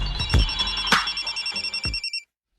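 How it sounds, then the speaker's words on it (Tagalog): A cellphone rings with a repeating electronic ringtone, fairly loud and close, its rhythmic pulses continuing for about two seconds before cutting off abruptly into silence. "Saba ba na yung cellphone ka, oy?"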